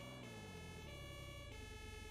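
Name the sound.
fire engine siren in Roblox video game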